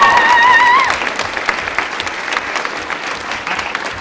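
An audience at a council meeting gives warm applause for a group of young people, with brisk, full clapping that is loudest at the start and then settles into a steadier round, plus a brief tonal whistle early on.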